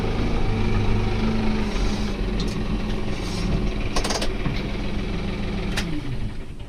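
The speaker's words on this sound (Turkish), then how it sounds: "Görmüş olduğunuz gibi traktörlerin biri gidiyor, biri geliyor arkadaşlar" New Holland tractors working on village pastures, spreading fertiliser, run steadily at close range as one leaves and another arrives, with a continuous diesel drone, low mechanical rattle and a few brief high clicks.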